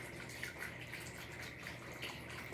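Steady water flowing and trickling from a small fountain pump with adjustable flow, a continuous soft splashing wash heard close up with no talk.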